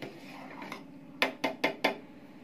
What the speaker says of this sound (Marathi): त्यात आपण साखर टाकून घेऊ आणि व्यवस्थित हलवून घ्यायचे